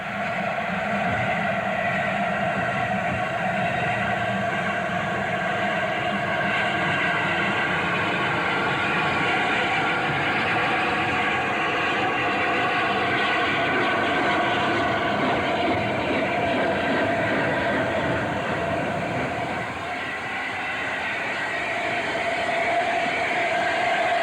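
LNER A4 steam locomotive Mallard, with its corridor tender, backs slowly onto a passenger train, giving a loud, sustained rumble and mechanical drone that holds steady for the whole stretch, briefly easing near the end.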